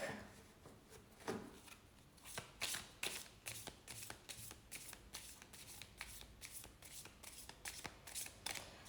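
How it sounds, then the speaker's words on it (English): A tarot deck is shuffled repeatedly, with crisp riffling bursts and soft flicks in quick, uneven rhythm, close up and quiet. "one more shuffle and clearing the deck."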